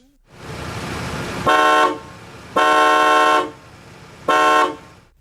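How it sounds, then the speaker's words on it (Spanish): An old Cadillac car's horn blares in three loud, separate honks: two longer blasts and a shorter final toot, heard close up with only faint background between them. "sería un crimen hacer esta reseña sin enseñarte la bocina porque es ridícula"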